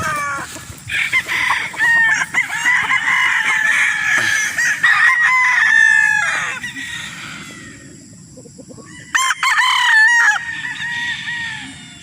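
Gray Talisayan rooster, a street comb bird on a farm in Roxas, crowing repeatedly nearby in loud bursts with short pauses, while other fowl honk and cluck in the background.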